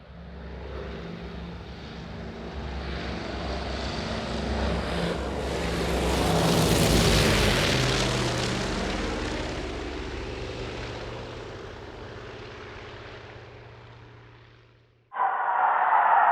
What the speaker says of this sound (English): And here's all the sounds for the B29.